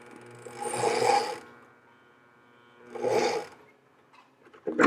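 Braid line is spooled by hand crank onto a downrigger reel, making two clicking, ratcheting bursts about two seconds apart, followed by a brief third rattle.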